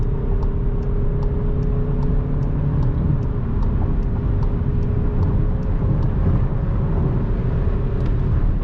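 A Skoda Superb 2.0 TDI diesel with 190 hp, 4x4 and a DSG gearbox accelerates at full throttle on the autobahn, its engine drone and road roar loud and steady throughout, with faint regular ticking above.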